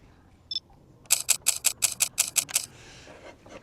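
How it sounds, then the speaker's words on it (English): A Lumix S9 camera's electronic shutter fires a single artificial click, then a rapid burst of about nine crisp, close clicks in quick even succession before falling silent. "It's that digital shutter sound that cameras put into their bodies now."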